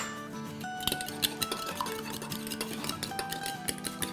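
A spoon scrapes and clinks steadily against a mug while chocolate mug cake batter with oil and milk is stirred, producing close, continuous rapid tapping and light ceramic chiming.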